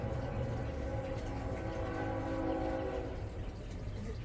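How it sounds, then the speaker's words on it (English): A train passes at a distance with a steady broad rumble, and a sustained horn tone holds for a few seconds before fading, all fairly faint. "Here comes the train"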